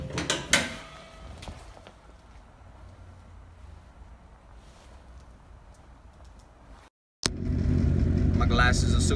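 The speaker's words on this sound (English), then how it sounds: "But started the car, just warming up right now" A car engine idles and warms up shortly after being started on a morning before work, a low, steady hum that jumps louder near the end, with a person talking over it.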